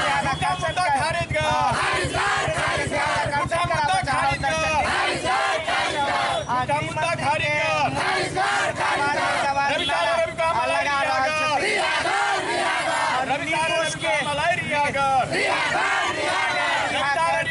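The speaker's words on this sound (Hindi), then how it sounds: "हम कनिक नारेबाजी सेहो सुनाबऽ चाहब अपने सबके" A protest crowd chants slogans against the home minister during a demonstration demanding a fair investigation, many loud voices shouting in rhythmic unison at close range, continuous throughout.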